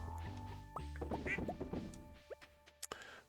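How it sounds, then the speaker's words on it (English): Ducks quack in Stardew Valley: a cluster of short nasal quacks mixed with clattering game effects, fairly faint, then a few scattered blips before a sharp click. "We want more ducks."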